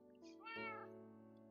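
A cat in a video game gives a single short meow, a quick chirp rising into a drawn-out tonal cry, faint and close with nothing else around it.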